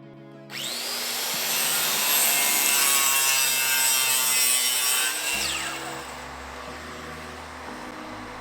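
A circular saw bites into a wooden board, giving a loud, sustained whining cut for several seconds that winds down as the blade spins off, recorded close with no talking.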